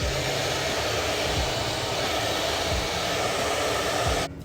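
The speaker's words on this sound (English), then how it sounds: "Then you're gonna blow dry the product into the hair." A hair dryer blows steadily with a loud, continuous whoosh and motor hum while hair is brushed and styled, cutting off abruptly near the end.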